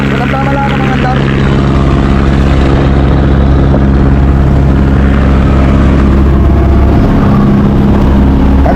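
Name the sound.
boat engine with bronze propeller running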